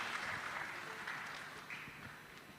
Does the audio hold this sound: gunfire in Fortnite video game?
no